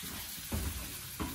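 Potatoes frying in a seasoned cast iron pan, starting to stick, give a steady broadband sizzle with two short bursts of scraping and stirring.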